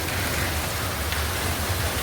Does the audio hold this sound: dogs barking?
no